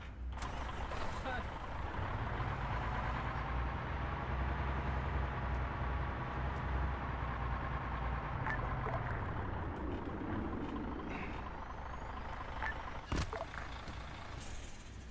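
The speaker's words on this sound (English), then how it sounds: "I'm gonna move the ammo truck so you don't blow it up with the rotors" A military ammunition truck drives in the Arma 3 video game. Its engine gives a steady, droning rumble with mechanical creaks and a few sharp clicks, continuous and moderately quiet.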